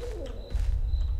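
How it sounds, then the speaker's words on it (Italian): A brief, low owl hoot with a falling pitch sounds once in the horror game Hunted: One Step Too Far, over a quiet rumbling background. "sentito un gufo"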